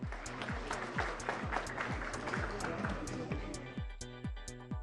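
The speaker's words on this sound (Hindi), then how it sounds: "तालियां बजती रहनी चाहिए, तालियों में कोई कमी ना रखे।" Audience clapping at an awards ceremony honouring police station officers, a dense, steady patter of many hands in a hall, with some rhythmic booming thuds from background music underneath.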